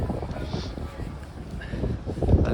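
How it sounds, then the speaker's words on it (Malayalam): Wind buffeting the microphone at the Doolin ferry pier beside the Atlantic, a low rumbling roar that swells and eases unevenly, with a faint higher hiss and some muffled voices underneath. "നല്ല കാറ്റും കാര്യങ്ങളൊക്കെ ഉണ്ട്"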